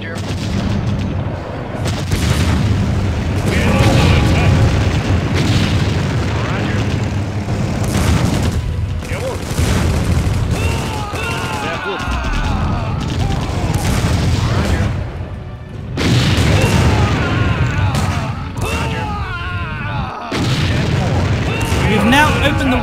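Loud battle sounds from the Empire Earth strategy game, German campaign at the Somme: repeated explosions and artillery-like booms mixed with aircraft engine drones, with voices talking over the fighting.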